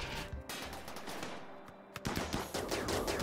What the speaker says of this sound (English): The mortar is shooting at us.